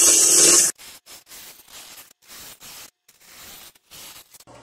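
A bowl gouge cuts a log spinning on a wood lathe to turn it into a cylinder, giving a rough, hissing scrape in short, irregular bursts after a loud opening rush of noise.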